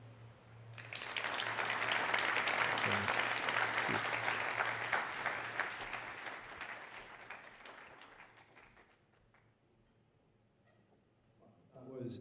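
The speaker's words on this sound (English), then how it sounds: "Thank you guys for applauding as well." Audience applause following a talk at a TEDx event at Loughborough University, a dense burst of clapping that swells quickly, holds loud for several seconds, then tapers off, with a few scattered claps returning at the end.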